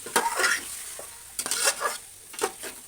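Drained rice water going into sizzling chicken biryani masala in a pan: close, crackling sizzle and frying with scraping stirring strokes in several bursts, no talking.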